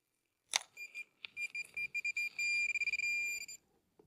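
A metal detector gives a sharp click followed by a series of electronic beeps, short pulses speeding up into a long sustained tone, fairly quiet and close, in rocky ground.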